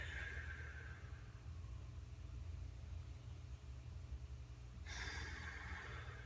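During a forward stretch with arms out front and forehead to the ground, two long, slow, deep breaths come through quietly, one at the start and one near the end, with a low steady background between.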